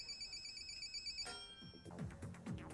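A telephone ringtone plays while a call connects on a 2008 television game show. Steady electronic tones are followed by a quick run of short melodic chime notes, clear and close with no talk.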